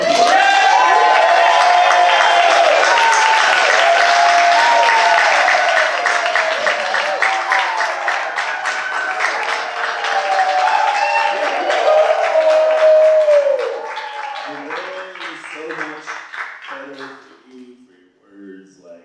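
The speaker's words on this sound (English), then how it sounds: "let's just show as much love as you possibly can with just raucous cheers, applause." Raucous audience applause and cheering at a San Francisco poetry book launch celebration, dense and sustained for over ten seconds before thinning out into scattered clapping and fading.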